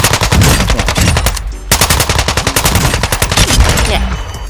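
Call of Duty Warzone 2.0 with a TR-76 rifle firing rapid, evenly spaced automatic shots, loud and close, with one short pause before the stream resumes.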